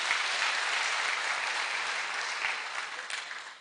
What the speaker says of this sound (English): A big clap for the governor.